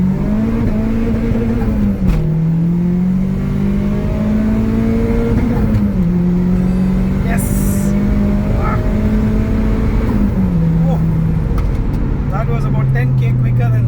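A turbocharged 400+ horsepower Mitsubishi Cedia engine revs hard and steady up close from second gear at 2,500 rpm, its droning pitch climbing and dropping with gear changes, with some faint clicks and rattles alongside.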